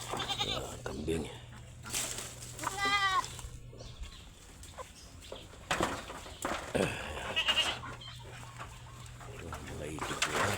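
A goat on a rural farm plot with ducks and onion crops nearby bleats once in a wavering call near the middle, with other animal and bird sounds and people talking around it.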